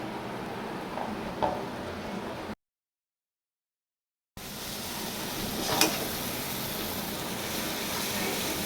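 Chicken masala with cumin powder sautéing in oil, a soft, steady low sizzle with a few faint stirring clinks, broken by a short silent gap before the frying hiss resumes.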